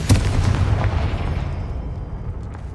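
A Confringo blasting spell explodes in Hogwarts Legacy: one loud, close boom right at the start, then a rumbling tail that fades over the next two seconds.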